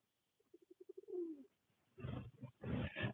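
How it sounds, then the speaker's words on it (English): A pigeon coos close by, a quick run of soft rhythmic pulses rising into a longer drawn-out coo, followed by rougher bursts of bird noise, fairly faint with no speech. "And this pigeon is being a pest."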